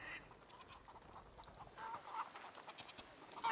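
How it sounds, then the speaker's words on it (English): A chicken clucking in A Plague Tale: Requiem, faint and a little distant, a few short clucks scattered over a soft ambient background with no talk. "Chicken."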